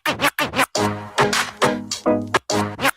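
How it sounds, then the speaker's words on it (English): Series of DJ scratches on a turntable platter, the record held and released by hand, making about seven rapid rhythmic zipping back-and-forth bursts, loud and close with short gaps and no talk. "So this is actually I'm holding the platter and then I'm releasing it."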